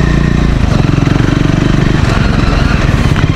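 A Triumph Scrambler 400 XC motorcycle rides over a rough, muddy road, its engine thumping loud and close in a steady, even pulse.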